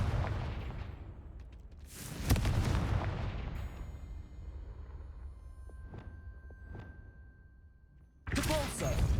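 A Confringo fire spell bursts in Hogwarts Legacy, landing as two heavy booming blasts with rumbling tails, followed by fainter thuds and a final loud blast near the end.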